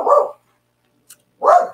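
A pet dog barks twice, loud and close, with a short pause between the two barks and a faint click in the quiet gap.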